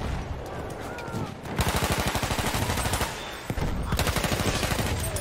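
Rapid bursts of SMG 08 submachine gun fire in the Battlefield 1 video game, two long loud automatic strings of closely spaced shots separated by a short pause, with game noise and a voice in the background.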